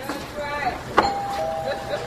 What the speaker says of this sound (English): I rang the doorbell so I can hear how it sounds.